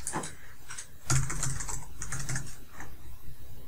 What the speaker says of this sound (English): So I'm going to enter in that information right here in the login name and password.